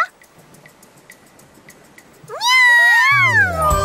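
After a stretch of quiet ticking, a cat lets out a loud, drawn-out meow close up, its pitch bending down, followed by a lower wail.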